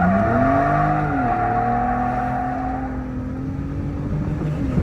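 Gen3 Ford F-150 Raptor with an AWE catback exhaust, power braking in Baja mode as the engine revs up and holds a loud, rising roar heard from inside the truck.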